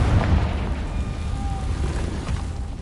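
A Confringo fire spell in Hogwarts Legacy, played on PS4, blasts out as a deep booming explosion that rolls on for a few seconds, loud and close, with no talking.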